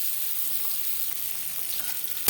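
Eggs frying in a pan for a Bengali egg and potato curry, a soft continuous hiss and crackle with a few small pops and a sharper clink near the end.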